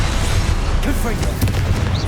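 Confringo blasting curse exploding in Hogwarts Legacy, a loud rumbling boom amid dense game combat noise, with faint voice-like sounds in the mix.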